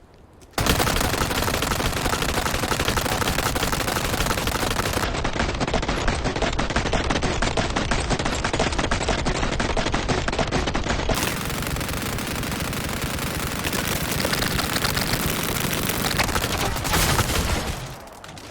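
The Chicago Sweeper submachine gun in Resident Evil 4 Remake fires in a long, unbroken full-auto stream, loud and close, with dense rapid shots that run for many seconds before cutting off.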